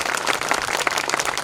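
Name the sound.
applause for the Kasoda and Erandol team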